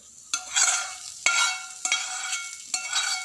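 A spoon stirs a bhel mixture of puffed rice and poha in a pan after the gas is off. Four scraping strokes, each opening with a knock and trailing into a crackly rustle, sound close, with no voices.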